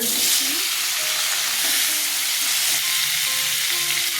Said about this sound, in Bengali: আলুগুলো ভেজে নেবো আর একটু তেল দিচ্ছি সর্ষের তেল দিয়ে দিচ্ছি আলুগুলো দিচ্ছি